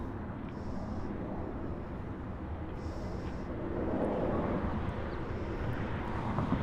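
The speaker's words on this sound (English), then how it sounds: "This is going to be Alaskan flight 1219 off to Seattle. Starts rolling. Down runway 24 left." An Alaska Airlines jet rolls down runway 24 left at Los Angeles airport for takeoff, its engines giving a loud, steady roar that swells slightly as it gathers speed.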